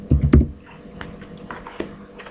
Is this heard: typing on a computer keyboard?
yes